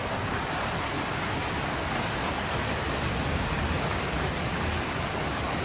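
Rain falls steadily, a dense, even hiss that continues without pause. It is moderately loud and heard alone, with no voices.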